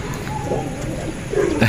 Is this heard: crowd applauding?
no